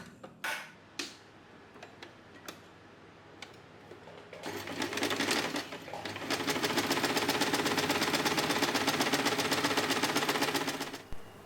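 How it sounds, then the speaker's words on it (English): A sewing machine top-stitches along the folded edge of a fabric pocket, with a few clicks and short starts before a steady rapid ticking run of stitches that stops at the end. "Next, we are going to top stitch along the folded edge."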